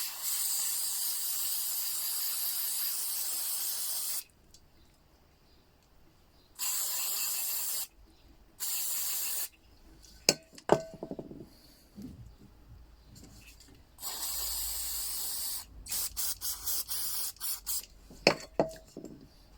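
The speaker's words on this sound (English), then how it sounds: "I used the carb cleaner because it just seems to work." Carb cleaner sprays in sharp hissing bursts onto a lawn mower carburetor, several loud blasts of varying length separated by quiet gaps, with small clicks and handling noises between them.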